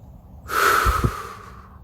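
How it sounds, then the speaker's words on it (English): One deep breath, a single long, close, airy rush of air with a slight snort-like push near its end, rising and fading within about a second, with no talking. "do some deep breaths"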